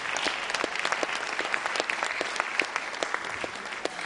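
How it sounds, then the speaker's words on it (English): Audience applause for Bargain Books at a book launch in Port Elizabeth, a steady crowd of clapping hands sustained at moderate loudness throughout. "give them a round of applause, Bargain Books"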